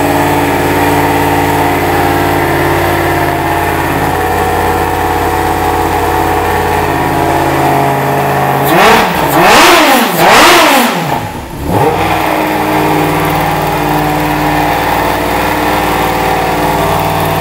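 A car engine is cranked and revved indoors in an engineering workshop, a steady loud idle broken midway by a couple of sharp rising and falling revs before settling back.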